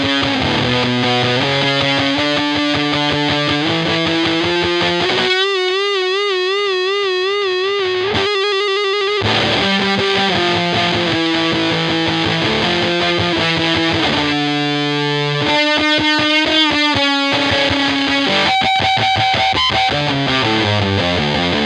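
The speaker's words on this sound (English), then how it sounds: "lately I do kind of prefer to use the big muff for the whole thing" An electric guitar plays a descending riff through a Big Muff fuzz pedal, thick and heavily distorted, with sustained notes stepping down in pitch and a few wobbling, bending passages, loud and continuous with no voices.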